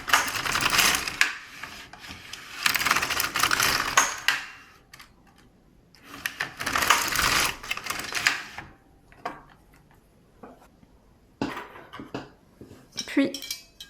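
An LK150 knitting machine knitting three rows with the main yarn: bursts of rapid clattering carriage passes, each a few seconds long, separated by short pauses, close and fairly loud.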